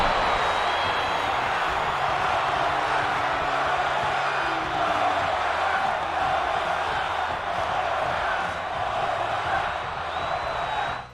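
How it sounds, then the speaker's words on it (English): In the WWE 2K22 wrestling video game, an arena crowd chants for a third finisher after two in a row, a steady, loud roar of many voices that holds evenly for the whole stretch before cutting off. "Should you perform 2 finishers in a row, then the crowd will begin to chant for a third."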